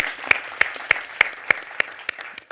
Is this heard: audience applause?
yes